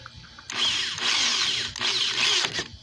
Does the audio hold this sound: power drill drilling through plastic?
yes